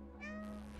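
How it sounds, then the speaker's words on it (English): A single drawn-out cat meow from the video game Stray, clear and close, rising and then holding steady for under a second over a faint constant hum. "I'll give you a meow."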